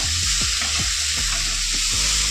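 Potatoes and bitter gourd stirred in a pan without oil, in a little water, rhythmic scraping strokes about twice a second over a constant close sizzle.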